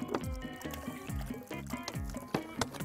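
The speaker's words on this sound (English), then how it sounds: "this is ordinary tap water. Just pour some water in." Ordinary tap water pours into a plastic bag in a gurgling, splashing stream with rising bubbly tones, close and continuous, without speech.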